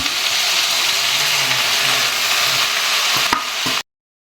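Onions and greens sizzle and crackle loudly in a hot pan, a steady frying hiss with occasional stirring clinks before it cuts off.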